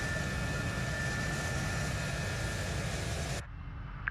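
An old aircraft flies in a flight simulator game, its engine a steady broadband roar and hum that cuts off abruptly near the end, leaving a quieter drone.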